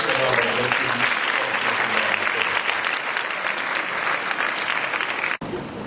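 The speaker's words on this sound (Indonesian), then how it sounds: "kita berikan tepuk tangan yang meriah atas kuliah yang diberikan oleh Profesor Dr. Yusri" Applause from a university lecture audience after a law lecture, dense sustained clapping that holds steady for several seconds before cutting off abruptly near the end.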